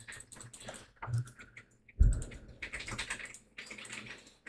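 Rapid keystrokes rattle on a computer keyboard in quick, irregular bursts, close and crisp, with a brief pause and a heavier thump partway through.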